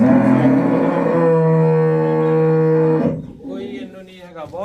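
A large, heavy Jersey cow on a farm gives one long, loud, resonant moo lasting about three seconds, followed by brief voices nearby.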